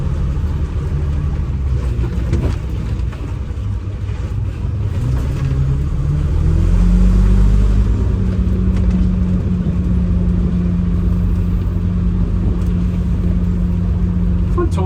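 An AEC Merlin bus engine pulling in second gear, a loud, steady low rumble and drone that swells as the revs rise, heard close from inside the vehicle.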